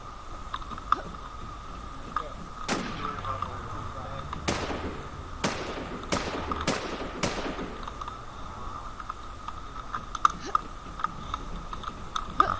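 Gunfire in the survival shooter Infestation Survivor Stories: about six sharp single shots, most clustered over a few seconds, each cracking out with a short decay over a steady low background hum.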